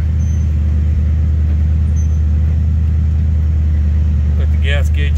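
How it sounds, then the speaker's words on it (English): Engine and exhaust of a 1964 Chevy Impala SS idling, a steady low rumble heard close and loud throughout, with a brief voice near the end. "Nice exhaust note."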